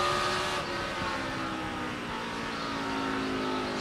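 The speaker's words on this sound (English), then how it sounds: "Fast cars coming." NASCAR race cars at the 2006 Crown Royal 400 roar past at speed, a steady loud engine drone with a brief louder swell at the start, no talk.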